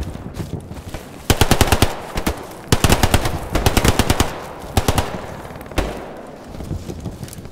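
Machine gun fire in the WWII shooter game Hell Let Loose, loud close bursts of rapid automatic shots repeating in several volleys with short pauses, over a low battlefield rumble.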